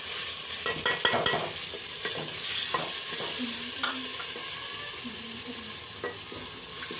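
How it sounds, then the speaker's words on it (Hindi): Ginger, garlic and crushed green chili frying in oil with browned onions, stirred in a pan for chicken moli ki bhujiya: a continuous close sizzle with scraping stirring strokes and light clinks, no talking. "अदरक लहसुन हमारा भुन चुका है।"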